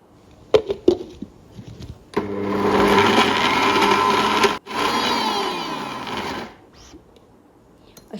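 A kitchen mixer grinder whirs loudly and steadily for about four seconds, grinding grated ginger, shade-dried coriander and masala into a paste for Kolhapuri onion-garlic masala, with brief clatters before and after.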